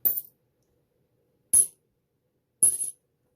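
Junk silver coins, older quarters and dimes, clink in three separate bright, metallic chinks, each short and ringing, with quiet gaps between them and nothing else heard.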